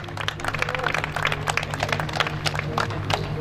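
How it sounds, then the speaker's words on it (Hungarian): Applause from a crowd at a Veszprém 2013 rally as a Lada VFTS team finishes second in class, a dense steady patter of clapping lasting throughout at moderate level with a low background hum. "jogos a taps"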